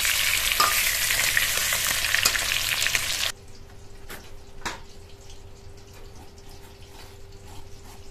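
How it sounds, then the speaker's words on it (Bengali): Fish fries in a pan with a loud, dense sizzle close by for about three seconds, then the sound drops abruptly to a faint crackle with a few soft knocks. "মাছের একটা পিঠ হয়ে গেলে আর একটা পিঠ উল্টে দিতে হবে ভাজার জন্য।"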